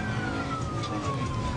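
A Little Rock police patrol car's siren wails continuously with a slowly falling tone, heard over engine and road noise from the responding car.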